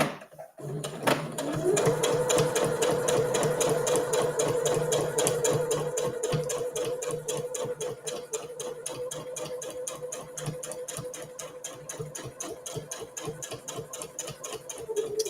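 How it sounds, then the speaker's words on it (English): A sewing machine stitches the side seams of a reusable fabric gift bag, running in a steady, close, rhythmic clatter from start to finish with a brief back-stitch at the beginning. "we're just going to sew all the way down our side seams"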